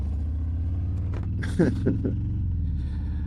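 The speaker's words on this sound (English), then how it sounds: "Oh, this bike sounds good." A motorcycle engine idles steadily at close range, with a few brief revs or throttle blips in the middle over a constant low rumble.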